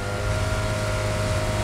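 A car engine in the mobile game PUBG Mobile hums with a steady, loud drone, holding an even pitch without clear revving throughout the short stretch.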